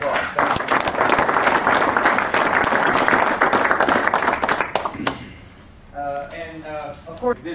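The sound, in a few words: audience applause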